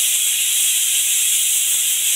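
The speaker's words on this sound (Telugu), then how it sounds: "కుక్కర్ పెట్టాను. 4-5 విజిల్స్ రావాలి." A pressure cooker cooking chickpeas gives off a steady, loud steam hiss that holds unbroken and bright throughout, with no voices over it.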